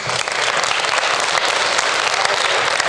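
A live audience at a Denver PRIME program event bursts into loud, sustained applause, dense clapping filling the whole stretch without a break.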